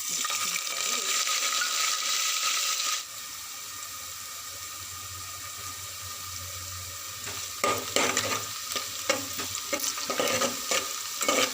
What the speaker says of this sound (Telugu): ఆనియన్ పచ్చిమిర్చి ముక్కల్ని ఇలా ఫ్రై చేసుకోవాలి.